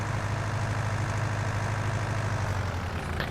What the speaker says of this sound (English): I do love this Fiat tractor,